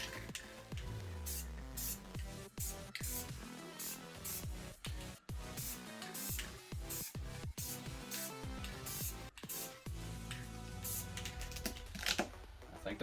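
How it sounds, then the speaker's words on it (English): A spray can hisses in repeated short bursts while a PlayStation 5 console panel is custom painted, the bursts falling in a fairly regular rhythm close by. "So we have sprayed the logo on here."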